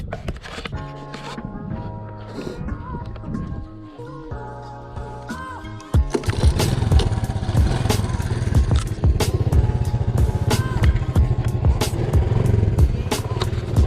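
A Honda ATC 70 three-wheeler engine runs on a first ride after a front suspension install, idling with clatter at first, then revving louder and steadier as it pulls away, close to the mic.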